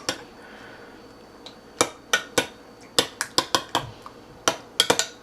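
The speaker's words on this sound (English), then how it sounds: "I'm going to go ahead and just mix this in slightly" Utensil repeatedly clinking against a bowl while a cake layer mixture is stirred, a dozen or so sharp, irregular taps close by with no voices.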